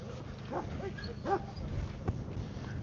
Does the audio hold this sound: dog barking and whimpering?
yes